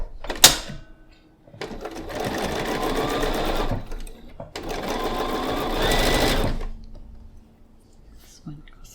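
Sewing machine chain piecing quilt block seams at a 1.6 stitch length with a quarter-inch seam, running in two steady bursts of several seconds each, close and loud, with a short pause between and a small click before.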